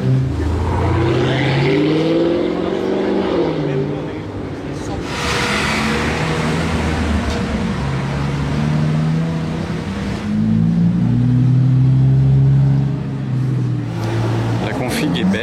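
A Dodge SRT car in demon mode revs its engine repeatedly in a street setting, the loud rising and falling revs set against traffic noise while someone talks over it.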